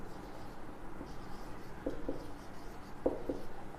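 Chalk or marker writing on a board during a maths lesson, heard as a few short scratchy strokes in small bursts over a quiet room with no talking.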